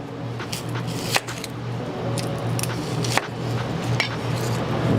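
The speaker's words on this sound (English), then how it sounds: "cut this onion up." Knife chopping an onion on a cutting board in a home kitchen, with irregular sharp taps and scraping over a steady low hum, some clicks louder than others.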